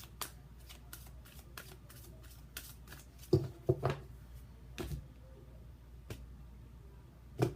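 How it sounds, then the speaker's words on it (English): Tarot cards being shuffled by hand during a reading, soft riffling and tapping bursts at irregular intervals, close and quiet with no talking. "I guess they needed a little bit more shuffling."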